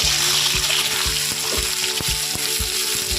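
Cut potatoes fry in a pan for alu methi, giving a constant close sizzle broken by regular knocking taps of stirring, with no talk.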